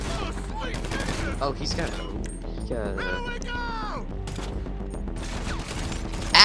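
Gunfire bursts out in the GTA 5 video game, rapid shots and volleys in the middle of busy game sound, with a player talking over the action.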